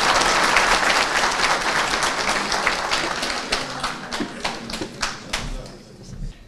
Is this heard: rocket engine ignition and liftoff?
no